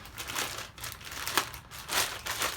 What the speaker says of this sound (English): We're unwrapping this here.